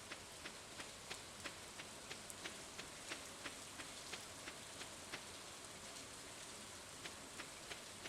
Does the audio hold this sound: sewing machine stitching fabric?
no